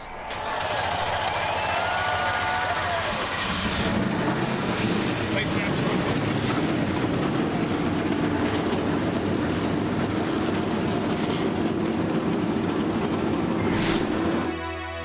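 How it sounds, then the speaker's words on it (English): Several NASCAR Cup Series stock car engines at Pocono fire up and settle into a loud, sustained rumbling idle together, a dense continuous roar with crowd and announcer talk mixed underneath. "Drivers, start your engines!"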